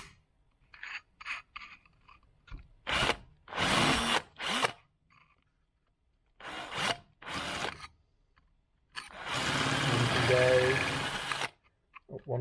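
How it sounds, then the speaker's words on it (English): An electric drill bores holes out to 6mm in aluminium on a Jaguar XK8, several short bursts of whirring and grinding separated by pauses, ending with a longer run. "Decided to enlarge them to 6mm just to tidy up the ragged bit I just made."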